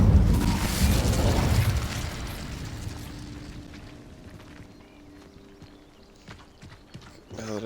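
A burst of magical fire from an Incendio spell cast in a Harry Potter wizard video game: a loud roaring whoosh at the start that fades over a few seconds into a quieter crackling tail, with a faint sharp hit near the end.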